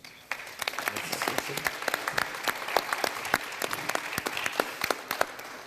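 A crowd applauds a panel at a spectrum-management forum steadily for several seconds, many hands clapping in a dense, even patter.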